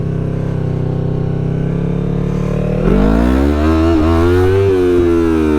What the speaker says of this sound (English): We will definitely power wheelie first.